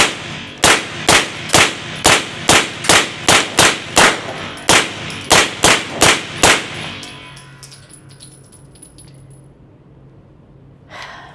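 Rapid, loud, close shots from an H&K SP5K pistol caliber carbine, about fifteen sharp reports in a quick uneven string, then a ringing fade to quiet and a faint clatter at the end.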